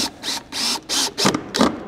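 Small self-tapping sheet metal screws are driven into a replacement window frame with a power driver, heard as several loud, close whirring bursts separated by short pauses.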